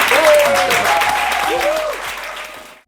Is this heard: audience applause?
yes